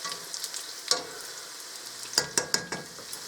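Fry bread dough frying in a pan, a steady soft sizzle broken by a few sharp scraping clicks of a utensil against the pan, with no one speaking.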